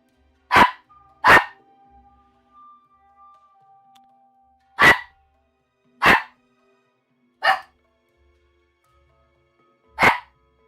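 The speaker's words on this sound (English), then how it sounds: "You are hearing a doggo." A dog barks alone in a quiet room, giving six sharp, separate barks at irregular intervals: two close together, a long pause, then four more spaced out, each loud and near.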